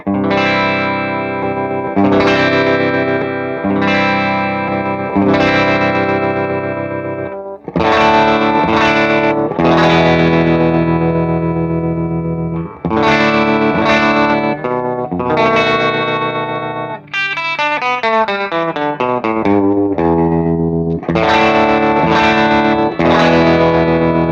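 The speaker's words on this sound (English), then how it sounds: "So now you get an amazing trem sound, but without that loss of energy." Electric guitar played through a pulsing tremolo effect, chords chopped into rhythmic throbs, with a fast rippling passage near the end; no voices.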